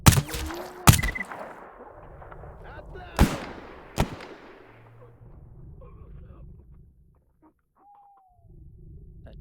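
Several loud gunshots crack out in the S.T.A.L.K.E.R. G.A.M.M.A. shooter game, a few sharp blasts spaced irregularly with long decaying tails over a quiet ambient background, and someone speaks briefly between them.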